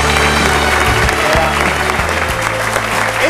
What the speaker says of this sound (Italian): E quindi un grande applauso al responsabile del settore giovanile del Forlì Calcio